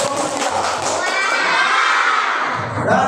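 Indonesian schoolchildren in a classroom clap and shout together for a student group, a loud burst of mixed clapping and young voices lasting a few seconds.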